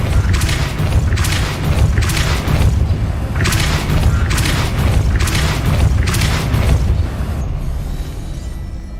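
A Depulso force spell cast in Hogwarts Legacy, heard as a series of loud, booming blasts repeating at a steady rhythm over a constant low rumble, close and dense with no voices.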